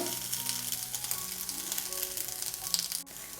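Sliced onions sauté in a pan with a moderate, continuous sizzle close by, a faint hum underneath and a brief clatter near the end.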